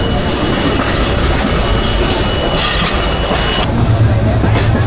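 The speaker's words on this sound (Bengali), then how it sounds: "উপবন এক্সপ্রেস, যা ট্রেন নম্বর 739, বাংলাদেশ রেলওয়ের অধীনে পরিচালিত ঢাকা থেকে সিলেট পর্যন্ত চলাচলকারী একটি আন্তনগর মিটার গেজ ট্রেন" Upaban Express, train 739, an intercity meter-gauge train of Bangladesh Railway on the Dhaka to Sylhet route, rumbles steadily with a constant loud roar and faint clatter throughout, heard from close by.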